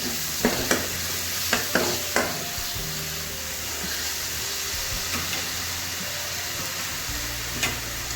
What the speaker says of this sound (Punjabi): ਇਹਦੇ ਵਿੱਚ ਆਪਾਂ ਪਿਆਜ਼ ਪਾ ਰਹੇ ਹਾਂ ਹਲਕਾ ਬ੍ਰਾਊਨ ਹੋਣ ਤੱਕ ਆਪਾਂ ਇਹਨੂੰ ਭੁੰਨਣਾ ਹੈ